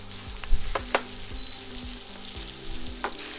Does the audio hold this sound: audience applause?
no